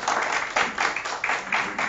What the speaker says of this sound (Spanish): Eso, un aplauso, venga.